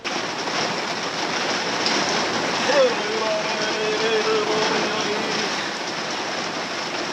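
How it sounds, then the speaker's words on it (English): Rain falls steadily along the Holland Track, a broadband hiss that stays even from start to finish, with a brief faint tonal sound partway through and no clear talk. "here comes the rain, so nice."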